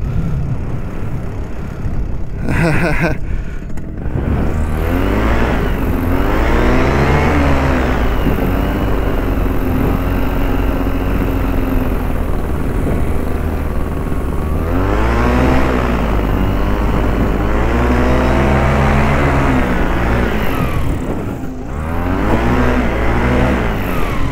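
A paramotor engine drones steadily throughout a flight in gusty 15 to 25 mph wind, its pitch rising and falling as the throttle changes, loud and close with no talking.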